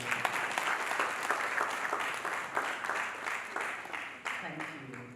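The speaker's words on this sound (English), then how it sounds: "Please, can I ask you all to give me another round of applause?" An audience at a nonprofit summit applauds in a sustained burst of dense clapping that holds steady and then thins near the end.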